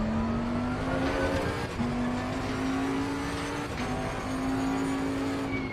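Bentley GT3 race car braking at Monza in Assetto Corsa Competizione, a loud, steady engine whine dropping in pitch in stepped downshifts as the car slows for a chicane, with tire noise underneath and no talking.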